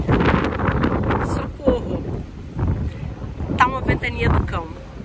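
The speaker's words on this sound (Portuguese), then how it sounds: "que vento é esse?" Strong outdoor wind in Helsinki buffets the microphone with heavy, rumbling gusts that swell and fade. A person talks through it, partly masked.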